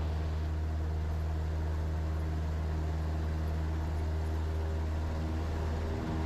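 Cessna light aircraft engine during a takeoff roll, a steady loud droning hum with strong low tones and broadband noise held throughout, with no voices.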